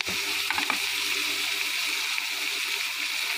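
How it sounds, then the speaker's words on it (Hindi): Onions and green chillies frying for masala dosa, a steady close sizzle of hot oil with a few stirring clinks near the start, continuing evenly with no speech. "साथ साथ यहाँ पे अब प्याज डालती हूँ और हरी मिर्च जो है वो डालती हूँ"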